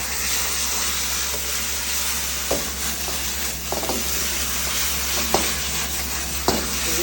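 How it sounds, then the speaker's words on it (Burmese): Watercress and garlic being stir-fried Thai style in a hot pan: a steady, dense sizzle runs throughout, with occasional soft scrapes and clinks of the utensil. No talk is heard. "ကဲကြော်မယ်"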